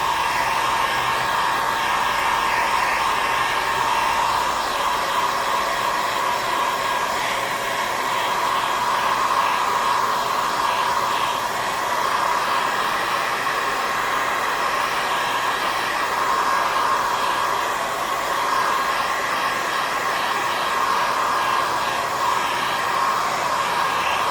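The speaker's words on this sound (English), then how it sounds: "I think I'm going to go ahead and use a hairdryer so I don't have to clean my brush and come back." A hair dryer runs nonstop to dry paint on a painting of trees, giving a loud, even whooshing drone with a steady motor whine and no talking.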